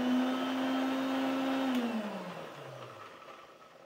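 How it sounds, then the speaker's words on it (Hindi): Mixer grinder blending banana, cashews, almonds and cardamom for lassi: a loud steady motor whir that runs evenly, then winds down with a falling pitch as the blades slow to a stop. "ये सब हमने अभी मिक्सर में ऐड कर दिया है, अभी हम लोग इसको ग्राइंड कर लेंगे अच्छे से।"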